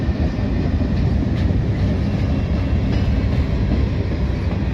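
Loaded TBOX freight cars and other freight wagons roll steadily past up close under new lights, a continuous loud rumble with faint wheel clatter and no pauses.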